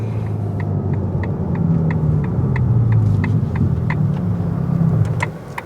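A Ferrari Roma's 620-horsepower engine roars in a sustained, throbbing drone as it accelerates, loud and steady with faint clicks above, easing off at the end.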